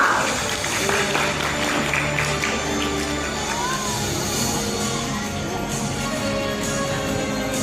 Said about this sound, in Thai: ขอเสียงปรบมือให้กับกรรมการทั้ง29ท่านด้วยนะครับ